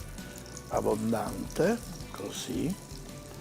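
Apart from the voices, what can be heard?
oil frying in a pan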